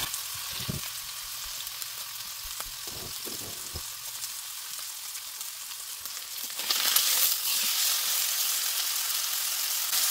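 Osso buco meat sears in a frying pan, one piece at a time, with a loud steady sizzle and hiss that swells brighter in the last few seconds, with occasional stirring knocks.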